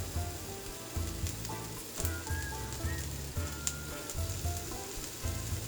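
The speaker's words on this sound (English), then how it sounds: "Now we're gonna turn the tomatillos." Tomatillos roasting in a hot pan with garlic and pepper, a steady close sizzle broken by rhythmic scrapes and knocks as they are turned over, repeating about once a second.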